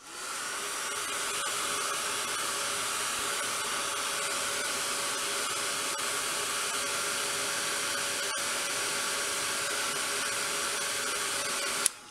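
Heat tool blowing over Faded Jeans distress stain on a mixed media craft project, a steady close whirring hum that starts up quickly and runs unbroken before clicking off at the end.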